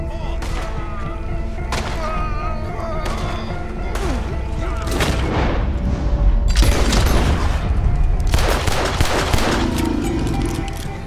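Rapid bursts of gunfire in Red Dead Redemption 2, loud, close shots and volleys with heavy booms, the firing swelling into dense fusillades toward the end of the stretch.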